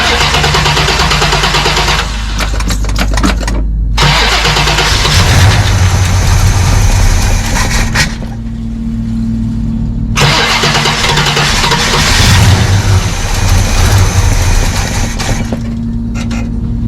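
A 1969 Hurst Olds V8 cranks over and fires with its choke set after the gas is pumped, catching into a loud, rough idle that surges and revs in waves, with brief dips and loud bursts near the car.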